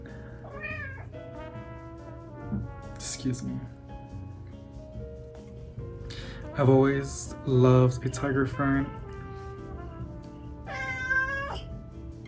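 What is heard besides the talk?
cat meowing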